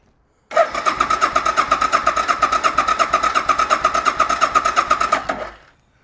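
A Suzuki engine, choke out and primed with ether, cranks with a fast, steady rapid-fire pulsing that runs loud and close for about five seconds, then cuts off.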